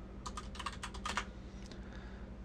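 Quick, close keystrokes on a computer keyboard come in a short burst of clustered taps, then a few lighter presses, in an otherwise quiet room.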